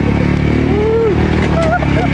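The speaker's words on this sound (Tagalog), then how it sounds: "Ang lakas mo man ng motor mo, kuya." A loud motorcycle engine drones steadily and close throughout, with a roughly constant low rumble while voices chatter over it.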